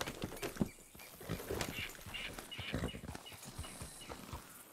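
Horse hooves in the video game Red Dead Redemption 2, with a steady clip-clop of walking steps at moderate volume over low game ambience, and a faint whinny-like sound among them.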